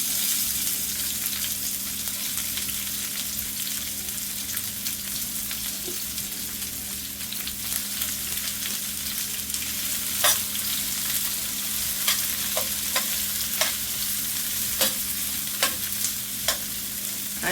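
Fresh seasoning frying in hot ghee in a pot, a steady soft sizzle close by with occasional sharp clicks and scrapes as a spoon stirs it.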